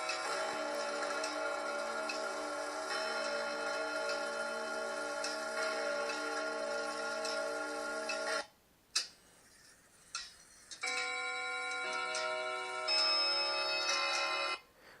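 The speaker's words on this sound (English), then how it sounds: "It sounds like a grandfather clock, and that's what it's supposed to sound like" A grandfather clock runs steadily, its ticking set against sustained ringing tones that carry clearly for about eight seconds, cut out briefly, then return; no one speaks.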